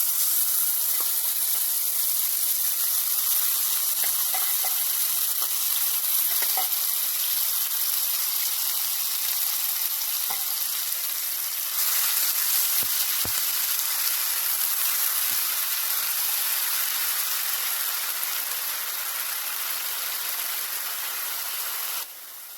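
A ground paste of onion, ginger, garlic and green chili fries in hot oil for pointed gourd with shrimp, giving a loud, steady, unbroken sizzling hiss with no talking.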